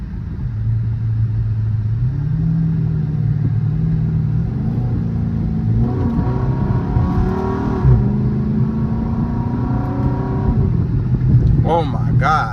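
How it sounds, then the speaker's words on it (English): A 2013 Chrysler 300 with 430 horsepower revs through downshifts and hard pulls. A steady, loud engine drone climbs and falls in pitch from inside the cabin, with a voice heard at times. "I'm gonna try to give y'all some downshifts and some pulls."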